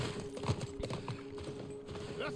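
Horse hooves clip-clop through a tense firefight in The Last of Us Part I, a quiet, uneven beat of hoofbeats under a game soundtrack with scattered voices.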